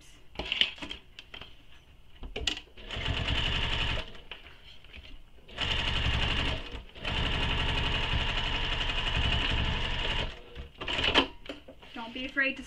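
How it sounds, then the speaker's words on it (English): Sewing machine stitching back and forth over a strap on a sling pack, in three sustained loud runs of steady rapid whirring separated by brief pauses and handling clicks. "I'm going to turn it over and stitch over it"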